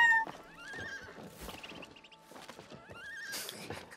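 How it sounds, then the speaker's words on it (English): A cartoonish horse in the video game It Takes Two whinnies in rising, squealing calls while its hooves clop, fairly close and clear against a quiet background. "Horse."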